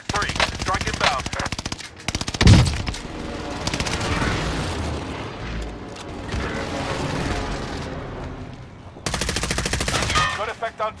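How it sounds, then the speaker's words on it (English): Gunfire in Call of Duty: Modern Warfare on Rebirth Island rattles in dense, rapid machine-gun bursts with a heavy boom, staying loud and busy under faint voices, and breaks off briefly before a last volley. "They're shooting at me."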